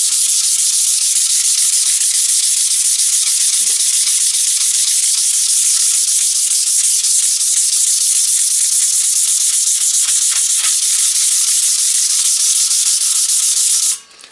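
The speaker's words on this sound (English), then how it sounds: "we'll sand the face down first just to get some of that rough edge off" Sandpaper rubbing steadily across the face of a new steel trowel being broken in, a loud, continuous close-up scratching hiss that runs unbroken for about fourteen seconds with no talk.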